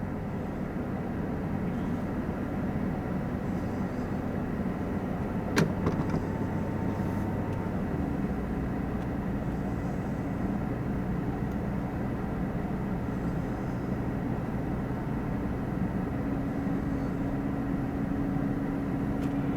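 A 650 single-cylinder Harley XL Sportster racing bike runs on the El Mirage SCTA dry-lake land speed course, heard as a continuous distant engine drone mixed with wind rumble, with no talking.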